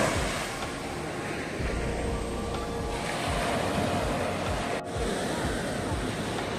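Ocean surf rolls steadily along Marina Beach in Chennai, a continuous wash of breaking waves with wind buffeting the microphone, fairly loud and unbroken apart from a brief dip near the end.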